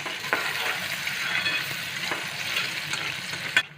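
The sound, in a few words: onions frying with green chillies and fennel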